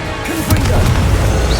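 A Confringo blast spell going off in Hogwarts Legacy: a loud, sudden smashing crash followed by a sustained rumbling boom, with spell whooshes layered through the blast.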